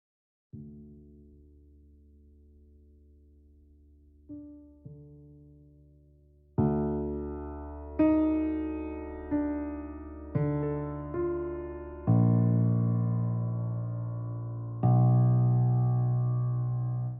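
A soft, mellow software piano called the Maverick plays sustained chords, each new chord struck cleanly and ringing out, with a warm rounded tone and no other sounds.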